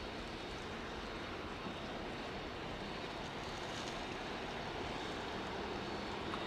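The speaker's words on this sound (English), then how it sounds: "Quite interesting how much runway these 737s use as it happens." A Boeing 737 freighter jet takes off at East Midlands Airport at night, a steady, broad roar heard from a distance, faint and unchanging throughout with no voices.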